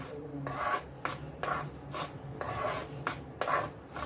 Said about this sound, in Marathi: हा छान आपल्याला हलवून घ्यायचा आहे